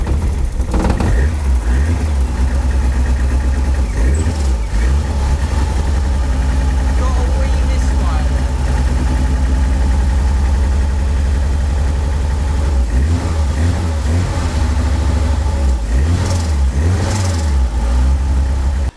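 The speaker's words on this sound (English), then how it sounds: "The car is started and running." MNR race car engine firing up for its first start in a workshop, running with a loud, low steady drone and revving throughout, with voices talking over it.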